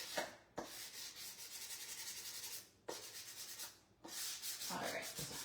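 Sandpaper rubbing paint off a surface by hand, a steady close scratchy rasp in long strokes broken by two short pauses, with no talking.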